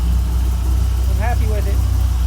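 A 1997 Dodge Viper GTS engine idles steadily with a low, continuous rumble throughout, while a voice briefly speaks partway through.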